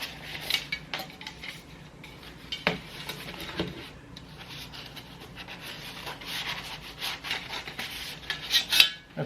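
Toaks nested backpacking cooking pots being handled: close metallic rubbing, scraping and light clanks as the pieces slide against each other, growing busier toward the end.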